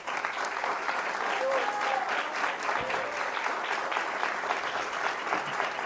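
Audience applause at a talk on Evita's life and work, a steady dense wash of many hands clapping throughout, with a faint voice heard briefly over it.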